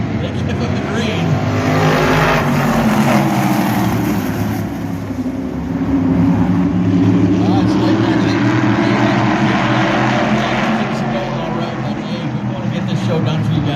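Stock cars at Wiscasset Speedway accelerate together on a restart, a loud dense engine roar that surges and holds steady over a long stretch, with a voice speaking over it.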